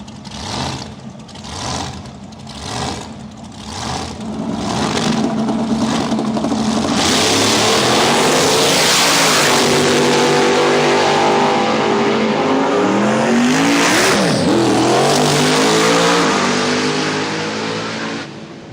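Two radial drag racing cars at Willowbank, Australia, first revving in short staccato blips, then launching into a sustained, very loud full-throttle roar down the strip that fades slightly at the end.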